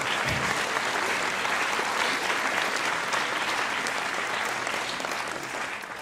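A large theatre audience applauds at the TNS season presentation, a dense, sustained wash of clapping that stays steady and fades slightly toward the end.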